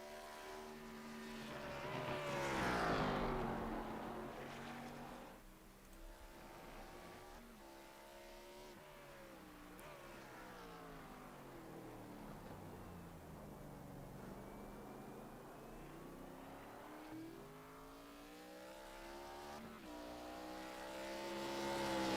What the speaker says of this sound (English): See him sliding that car around out there.